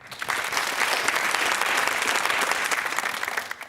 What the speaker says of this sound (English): to see you applauding each other